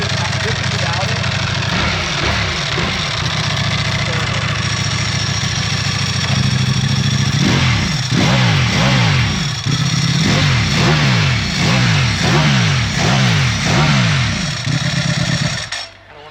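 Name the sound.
BMW M1000R motorcycle engine revving to soft rev limiter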